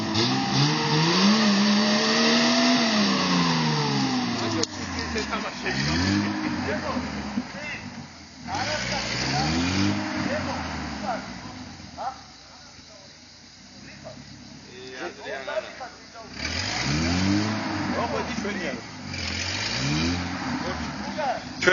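An off-road car's engine revs repeatedly in rising and falling surges, close and loud, with a quieter gap in the middle, while people call out over the engine.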